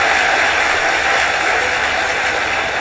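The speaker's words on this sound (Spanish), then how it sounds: "un fuerte aplauso para Alejandro, por favor" Applause from a comedy-show audience in Guadalajara is a loud, dense, continuous wash of clapping that holds steady from start to finish.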